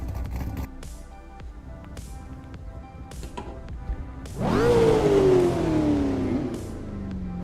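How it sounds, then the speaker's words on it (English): A Cadillac CT5-V engine in a racing video game, said to sound like a Corvette, idles and hums low before a loud rev rises sharply, then sweeps down as the car pulls away, close and alone without talk. "Sounds like a Corvette."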